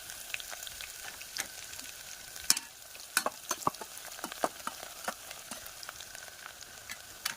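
Onion and garlic sizzle in frying oil in a pan, a steady close crackle with sharp irregular pops and occasional stirring scrapes throughout.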